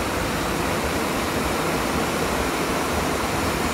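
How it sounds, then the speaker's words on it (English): A rough, swollen river rushes past in Takayama, Gifu, after a night of heavy rain, making a steady, dense roar of churning water that stays loud and unbroken throughout. "It's raining, and it's been raining since last night very strongly. So the water's pretty rough."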